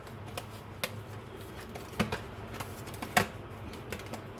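Tarot cards being handled and rearranged on a table: a few soft, scattered taps and flicks, quiet and intermittent over a faint background hum.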